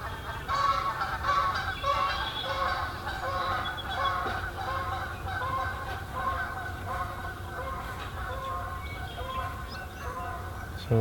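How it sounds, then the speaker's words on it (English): Many geese honk by a pond outdoors, their overlapping calls continuous and fairly close over a low background rumble. "A lot of geese out."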